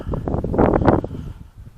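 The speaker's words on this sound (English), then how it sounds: "we got a few wind gusts" Buffeting wind rumbles across the microphone in a gust that swells and then fades, with a rustling undertone.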